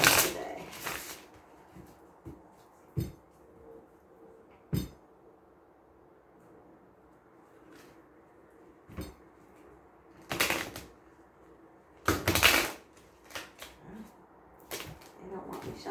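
Playing cards being handled and shuffled during a tarot reading, with bursts of riffling and flicking scattered between quieter stretches, near and fairly soft, and no talk over it.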